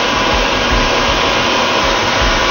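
A crystal cutting wheel removes material from custom crystal glass with a loud, continuous whirring grind. A faint low rhythmic pulse sits beneath it, and no one speaks.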